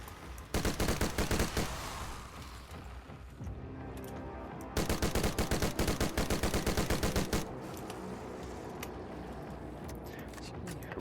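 Airburst Tremor assault rifle in Dead Frontier 2 firing in long, loud automatic bursts of rapid shots, a pause with quieter game sounds between them, then a second sustained burst and scattered trailing shots.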